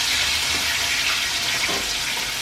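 Hot canola oil, about three cups in a skillet, gives a steady loud hiss and sizzle with no pauses, the kind of broad crackle heard when a test piece goes into oil for frying buffalo wings.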